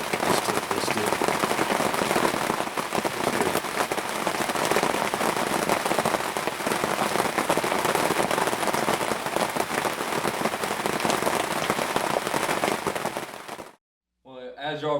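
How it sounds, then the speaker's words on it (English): Heavy rain pours down outdoors as a dense, unbroken hiss for most of the stretch, then cuts off abruptly and a voice briefly speaks. "It's flooding, raining again."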